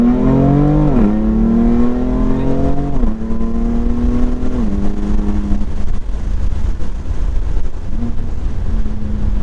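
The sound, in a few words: sports car downshifting and accelerating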